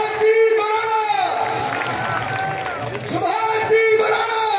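Crowd at a political rally in Haryana cheering and applauding while a loudspeaker announcer's voice rings out over it, with whoops and shouts mixed into a loud, echoing roar.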